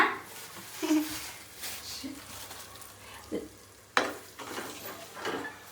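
Eggs frying in a hot pan while egg fried rice is being made, a steady close sizzle with stirring scrapes and a sharp clatter, with voices talking over it now and then.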